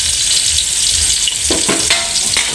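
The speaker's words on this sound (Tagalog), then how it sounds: "sasabay na natin yung sibuyas" Sliced onions and tomatoes saute in a hot pan for sinampalukang manok, a loud, dense, continuous sizzle with a few stirring scrapes near the end.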